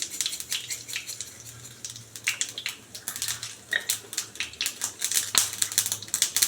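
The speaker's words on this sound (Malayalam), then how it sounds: "കടുക് പൊട്ടിയ ശേഷം" Mustard seeds pop and splutter in hot sesame oil as a rapid, irregular crackle of sharp close ticks that keeps going throughout, over a faint low hum.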